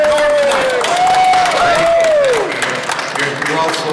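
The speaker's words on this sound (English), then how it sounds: "Let's have a round of applause here for Mr." Applause and crowd noise for radio personality Norm Nite at a Cleveland gathering, loud and sustained, mixed with a sliding musical tone and some voices.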